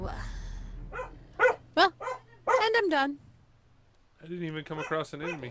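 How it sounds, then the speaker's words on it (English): A pet dog in the room barks several times in sharp, loud bursts, followed by a whimpering yip, while someone talks over game sounds before and after. "Sorry about the barking"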